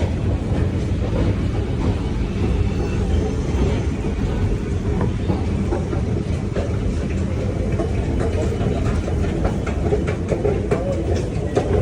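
Cairo metro train ride heard from inside a carriage: a steady, loud rumble with rail clatter and rhythmic clicks running throughout, with faint voices in the background.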